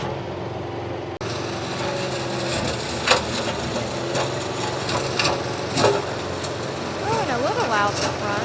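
A John Deere tractor running a brush mulcher through piles of trimmed maple, mulberry and poison ivy brush. The engine gives a loud, steady drone with intermittent woody crunches and thumps, and someone talks over the noise.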